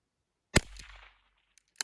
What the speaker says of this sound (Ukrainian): Ще два постріли добавлю.